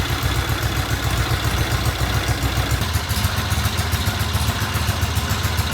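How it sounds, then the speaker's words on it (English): A vintage British motorcycle engine runs on its centre stand, a loud, close, steady idle with a rapid mechanical clatter throughout and no voices. "Bike is running on the center stand, coming off"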